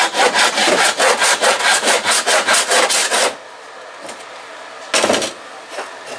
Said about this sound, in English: we're using the Japanese saw to cut our framing pieces to size.